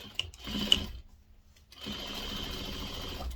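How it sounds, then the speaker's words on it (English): A sewing machine stitches binding onto a quilt, running in a steady mechanical whir, stopping briefly, then starting again and running evenly at close range, with no talk. "I'm sewing it first onto the back of the quilt, and then when we turn it over, we'll sew it onto the front."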